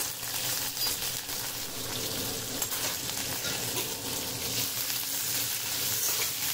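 Raw tomatoes dropped into hot oil tempered with asafoetida, mustard seeds, cumin, fennel, crushed coriander and green chilli, giving a loud, steady, dense sizzle with crackling throughout and no voices.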